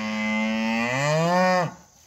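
A single long moo from cattle in a herd that includes a Hereford bull, loud and close, holding steady and then rising in pitch before cutting off abruptly, with no talking.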